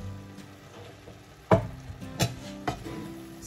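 Shrimp fry in a pan after a splash of avocado oil, with a soft steady sizzle beneath a few sharp clinks and scrapes of stirring, close and moderately quiet.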